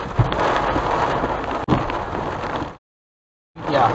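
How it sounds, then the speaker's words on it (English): Hail hammering down during a thunderstorm near a Houston tornado and derecho, a dense loud clatter that fills the clip, with one sharp crack midway and a brief dropout of silence near the end. "which I think we're in hail now"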